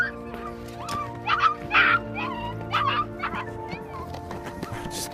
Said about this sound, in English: Workers heard a cry for help coming from a flooded pit. They decided to check and saw this poor dog with a puppy.